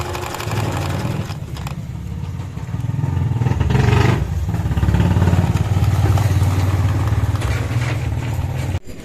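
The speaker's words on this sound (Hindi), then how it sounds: "इधर से इंजन भी चल गया है।" A motorcycle engine runs steadily at close range, a low continuous rumble with clattering mechanical noise and a slight rise in revs partway through.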